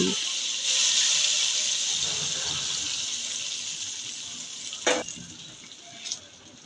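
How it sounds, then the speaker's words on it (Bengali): Browned fried onion tempering in hot oil poured onto cooking Mezbani-style beef curry, giving a loud, close, sustained hissing sizzle that slowly fades, with a couple of clanks from utensils near the end. "এবার মাংসের মধ্যে বাগারটা দিয়ে দিচ্ছি"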